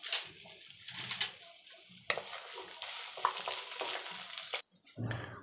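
Spices and curry leaves fry in a pan over a low flame for mutton curry, giving a steady close sizzle with stirring scrapes and bursts of crackle, then a brief pause before the frying resumes.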